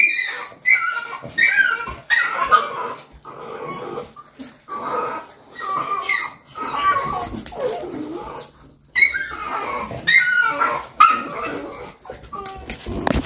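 American Bully dogs bark, yip and whimper in short excited bursts, close and fairly loud, with pauses between volleys.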